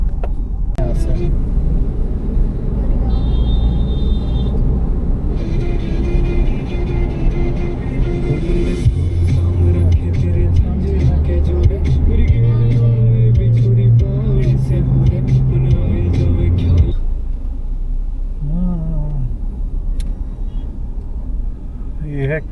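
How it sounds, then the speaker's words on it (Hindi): Road traffic at Kalindi Kunj in Delhi on the bypass road toward the Delhi–Mumbai highway, heard as a steady loud engine rumble and passing vehicles from inside a moving car, with someone talking over it. "ये है कालिंदी कुंज का ट्रैफिक।"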